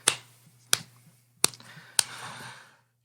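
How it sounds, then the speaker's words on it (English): Four slow, evenly spaced hand claps ring out one after another, each sharp and crisp with a short room echo trailing behind, with no voices alongside. "You hear a slow clap from down the hallway."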